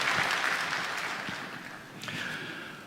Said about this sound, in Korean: 먼저 우리 박수 한번 올려드렸으면 좋겠습니다.